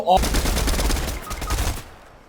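Rapid video-game gunfire from Fortnite, a dense burst of automatic shots that keeps up for about two seconds and then trails off, loud and close in the mix.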